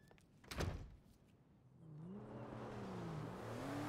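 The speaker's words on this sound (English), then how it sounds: "Close the door on your way out." A car door closes in GTA 5 with a single dull thunk early on, then an engine starts and hums, its pitch rising and falling steadily under the quiet scene.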